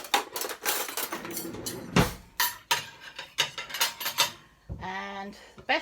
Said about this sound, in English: Oh, I need a knife and fork.